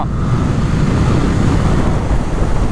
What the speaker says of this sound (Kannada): ವಿಂಡ್ ಬ್ಲಾಸ್ಟ್ ಇದೆ